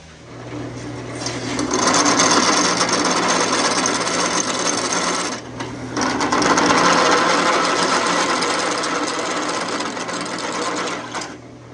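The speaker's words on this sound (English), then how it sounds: "We take our step drill." A power drill with a step bit grinds and whirs through metal in two long bursts separated by a brief pause, loud and close, with a harsh rasping edge.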